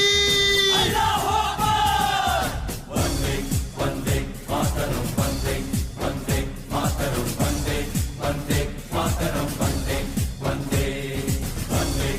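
A large crowd roars in unison over loud, driving patriotic music, the massed shouting sustained and dense throughout, as a Nara-e-Takbir slogan is called out at an Independence Day celebration.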